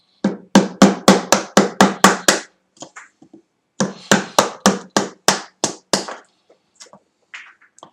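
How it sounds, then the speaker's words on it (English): A mallet's softer face drives a wood chisel with the bevel down, giving two bursts of about eight and nine sharp, evenly spaced knocks, loud and close, separated by a short pause with faint scraping. "I'm using the softer face of the mallet to protect my chisel."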